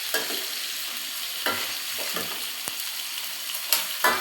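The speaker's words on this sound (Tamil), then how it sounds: "அந்த வெங்காயம், தக்காளி எல்லாம் கொஞ்சம் நல்லா வதங்கணும்." Onions and tomatoes with chana dal and urad dal sauté in a pan for a homemade Tamil chayote chutney, a steady hiss with several scraping stir strokes, close and alone.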